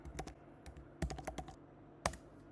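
Keys clack on a computer keyboard as Python code is typed, quiet, close taps in short bursts with brief pauses between.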